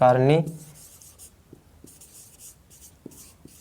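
Marker or chalk scratching on a board during a class 10 biology lesson, short irregular strokes and taps, faint and close, following a brief burst of a teacher's voice.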